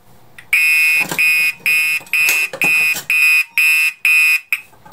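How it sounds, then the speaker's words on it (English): A Radionics D7412G fire alarm system sounds a loud, pulsing electronic tone in about eight even bursts, with brief gaps of quiet between them and no talking over it. "So this means if I were to activate the pull station again,"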